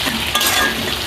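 Sliced mushrooms and vegetables sizzle steadily in a hot pan with salt, stirred now and then with soft scraping over an even, close frying hiss; no one speaks.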